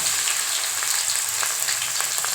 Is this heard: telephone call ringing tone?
no